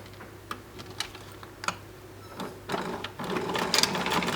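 A sewing machine stitches a back strap for slip-on shoes, starting with scattered ticking clicks and then moving into a denser, steadier mechanical whir, close and moderately quiet.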